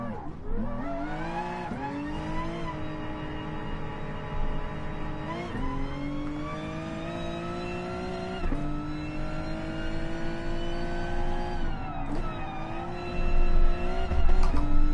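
A Gr.3 race car in GT Sport at Willow Springs, its engine droning loudly and steadily with repeated rising revs as it shifts through gears, tire squeal creeping in near the end.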